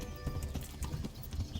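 Horse hooves clip-clopping at a steady trot in the medieval video game Kingdom Come Deliverance, a rapid rhythmic series of dull thuds running the whole moment, close and prominent with no talk over it.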